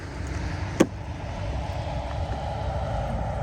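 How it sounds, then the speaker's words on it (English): A loud vehicle muffler gives a steady, coarse low rumble that runs unbroken throughout, with a single sharp click near the start and no voices. "If you could just get rid of that loud muffler sound"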